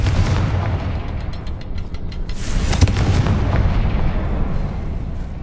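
A Confringo fire spell blasts in Hogwarts Legacy, a dense, loud rumbling boom that sustains for several seconds, with a sharper crack near the middle over a thick low-end roar.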